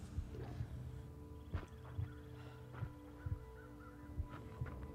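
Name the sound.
carrion birds (crows) cawing in the video game The Long Dark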